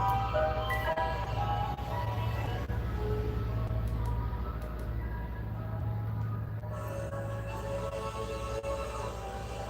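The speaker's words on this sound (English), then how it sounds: "Ice cream truck." An ice cream truck jingle plays steadily throughout, a tinkling melodic tune over a constant low engine rumble, fairly loud and close with no talk.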